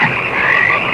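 Frogs croak in a steady, loud, close chorus of rasping calls for a horror film trailer, heard alone without voices.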